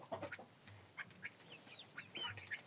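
Soft, quick clucks and chirpy calls from a hen among fluffy silkie-type frizzle chickens, a run of short close notes scattered across a few seconds with no talking.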